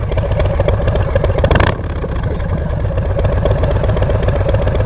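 A Harley-Davidson motorcycle with dual exhaust, standing in a park, idles with a loud, rapid, lumpy thump and gives one short rev, then settles back to a steady idle.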